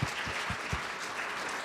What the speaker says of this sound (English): So huge round of applause to all those people.